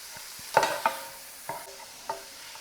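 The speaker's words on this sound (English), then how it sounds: "we're just going to stir it around" A spoon stirs salt and pepper through a meatloaf mixture in a pan, making a few distinct scraping strokes over a quiet sizzle, close up with short pauses between the stirs.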